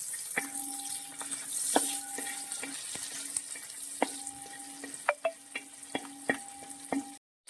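Continuous hot-oil frying sizzle of cashews and raisins, with repeated sharp clinks and scrapes of a utensil against the pan, close up, ending abruptly.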